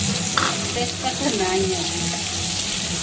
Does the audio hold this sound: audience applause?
no